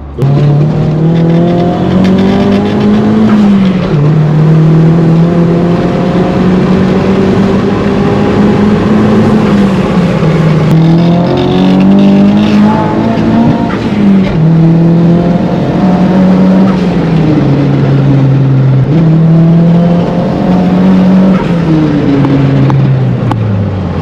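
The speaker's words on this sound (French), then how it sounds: "Là les amis, on sent quand le turbo il charge, c'est... On est en 3. Ça monte, ça monte, ça monte." A modified Nissan S14a drift car's engine revs hard from inside the cabin, pitch climbing and dropping through the gears with turbo spool, loud and sustained for over twenty seconds.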